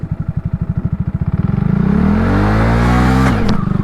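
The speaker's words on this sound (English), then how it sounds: "Rev it up and just dump the clutch." Honda Grom motorcycle close by, its small engine blipping in quick rhythmic pulses, then revving hard and holding high before the clutch drops and it settles.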